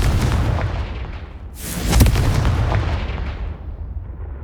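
A Confringo explosive spell in Hogwarts Legacy bursts with one loud, sharp blast that booms and then fades in a long rumbling tail, with no talk.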